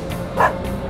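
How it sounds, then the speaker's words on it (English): A dog giving a single short bark or yip, moderately loud over a steady background hum, with no talk. "It's a dog."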